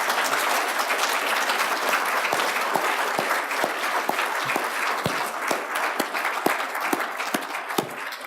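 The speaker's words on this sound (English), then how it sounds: "please join me in a round of applause for our panel" At a conference, a sizable audience gives the panel a steady, full round of applause that holds for several seconds, with sharper individual claps popping out near the microphone.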